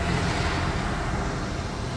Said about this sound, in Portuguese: Passando o caminhão aqui agora.